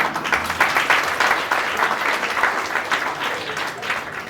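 Lively applause from an audience at an outdoor Ram Lila theatre performance, a brisk, dense patter of many hands clapping at close range, steady for a few seconds with no talk.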